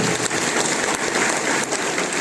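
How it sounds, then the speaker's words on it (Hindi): An audience at a company founding day celebration claps loudly and continuously, a dense, steady wash of applause with no talk over it. "एक बार जोरदार ताली हो जाए।"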